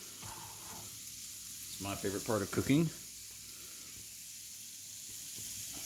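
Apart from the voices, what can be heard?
bacon sizzling in a frying pan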